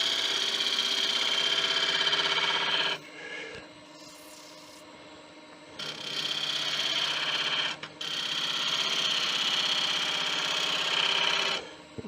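A wood lathe spins a tamarind bowl while a side bevel push cut is made, giving a steady high-pitched cutting hiss in three long passes separated by short lulls where the spinning hum continues.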